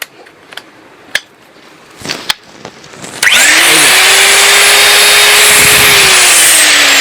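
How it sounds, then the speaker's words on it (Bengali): An electric pipe threading machine with a 2-inch die head and left and right rotation follows a few sharp taps and clicks, then its motor kicks on into a loud, steady whirring drone with a high whine. "এই যে দেখেন, এটা হলো পাইপের প্যাচ কাটার মেশিন"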